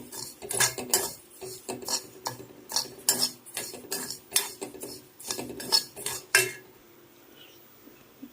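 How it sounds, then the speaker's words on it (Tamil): Foxtail millet dry-roasting in a pan, a quick rhythmic series of metal spoon scrapes and clinks against the pan, close and fairly loud, stopping near the end with no voices. "இப்போ நம்ம திணையை இளவரப்பாக வறுக்கிறோம்"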